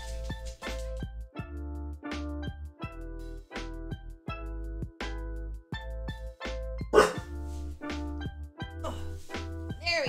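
A dog in the video game House of Ashes barking in sharp repeated bursts over a rhythmic musical score, with one louder bark standing out midway.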